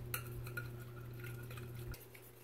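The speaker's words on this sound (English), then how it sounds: "We're gonna whisk this up." Batter seasoned with pink Himalayan salt for keto sausage puffs is whisked in a bowl, giving faint, quick clinking strokes against the bowl under a low steady background hum.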